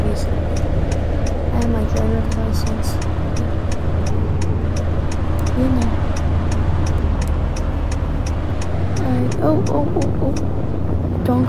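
Car driving in the Roblox Greenville game: a loud, steady engine drone that holds throughout with a continuous rushing roar, plus faint other sounds mixed in.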